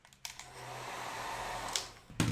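A hair dryer blows on wet, diluted paint dots applied with a dotting tool on laser-cut appliqués. It switches on with a click, holds a steady close whirring roar for about two seconds, then clicks off, with no talking.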